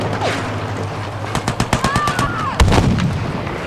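Sniper rifle shots in the video game Battlefield V, several sharp loud cracks spaced through the middle of the stretch, then a heavy boom near the end, over a constant background rumble of battle.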